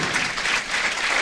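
A crowd at the 2000 Storm Mini Eliminator bowling tournament gives loud, continuous applause, a thick wash of many hands clapping at once.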